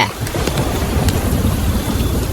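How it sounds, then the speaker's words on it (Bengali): Steady heavy rain pours down in a dense, continuous hiss, with a low rumble underneath that suggests thunder in a storm. "মনে হচ্ছে আজ আর বৃষ্টি ছাড়বে না, আকাশের অবস্থাও তেমন একটা ভালো না, দেখছো না কি জোরে জোরে বজ্রপাত করছে"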